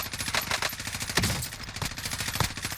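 Rapid automatic gunfire in the Call of Duty Warzone battle royale shooter, dense bursts of shots with a few heavier cracks, loud and close throughout with no talk over it.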